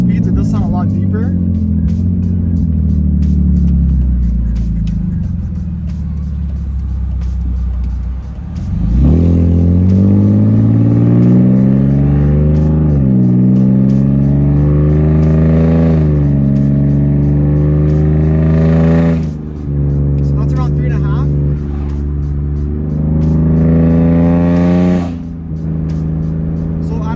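A BMW E46 with the M54 straight-six, catless headers and straight pipes, drives at low speed with a deep, loud drone that rises and falls through several revving surges, and someone talks over it.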